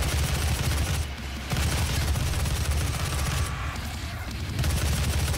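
Rapid, dense gunfire from the DOOM (2016) video game, a steady loud barrage with two brief dips, no talk over it.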